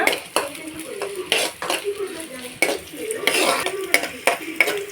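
Two small chopped onions frying in hot oil, stirred with a metal utensil that knocks and scrapes the pan in repeated sharp strokes over a constant sizzle.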